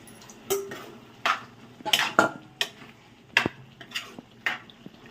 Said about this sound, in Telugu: ఇప్పుడు కొద్దిగా వాటర్ వేసుకుందామండి.